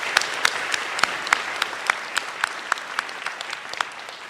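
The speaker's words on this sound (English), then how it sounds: "Let's give them a warm round of applause so they can share in the wonderful atmosphere and celebration." A warm round of clapping for graduates at a college convocation ceremony, with steady, moderately close applause and sharp individual claps standing out through the wash.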